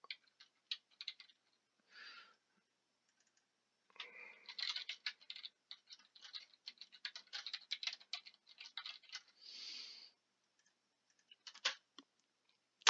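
Typing on a computer keyboard comes in irregular bursts of quick light clicks and key taps with short pauses between, close but quiet, with no talk.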